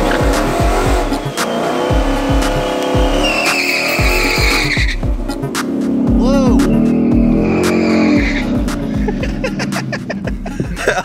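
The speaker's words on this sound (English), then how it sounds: "Should I do a burnout?" A stock 2018-or-later Ford Mustang with an MT82 manual gearbox does a burnout at a drag strip: a loud, close engine roar with rising revs and sustained tire squeal and skidding, while voices talk over it.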